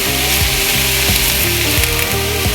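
Marinated beef tenderloin filet mignon steaks, some in bourbon or wine marinades, sizzle on a Primo XL grill with a loud, dense, continuous crackle close up, while a low rhythmic mechanical thumping repeats underneath.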